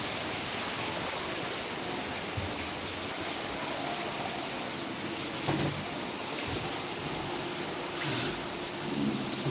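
Heavy rain pours down steadily outside an office during a thunderstorm, a dense continuous hiss broken by a few low thunder rumbles around the middle and near the end, with no voices.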